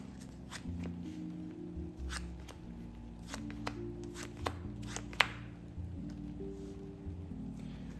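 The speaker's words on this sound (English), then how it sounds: "All right, shuffling up" Yu-Gi-Oh trading cards shuffled by hand, a quick run of crisp riffling flicks and snaps over steady background music, fairly close and moderately loud.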